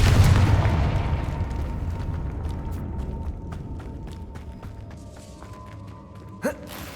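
A Confringo spell blast in Hogwarts Legacy opens with a deep, rumbling boom that decays into a low background rumble, followed by a brief, sharp crack near the end.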